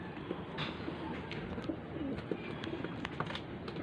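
Hungry pigeons are heard as they are fed, with soft low cooing and rustling blending into steady background noise. A few faint chirps rise above it, and no one speaks.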